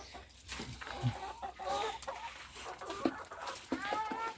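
Chickens cluck in short, scattered bursts at moderate distance, with faint background rustling and no talking.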